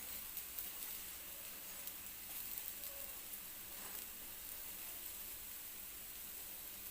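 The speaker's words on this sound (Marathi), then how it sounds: "म्हणजे जे बॅटर आहे ते सगळीकडून एकसारखं छान असं भाजलं जाईल" Soft, even sizzle of besan batter-coated bread toasting in a little oil on a pan, a quiet constant hiss with faint patter and no talking.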